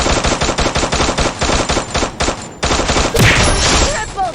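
Rapid automatic gunfire in the Free Fire battle-royale video game, a loud rattling burst of evenly spaced shots, a brief pause, then another burst ending in a sharper blast.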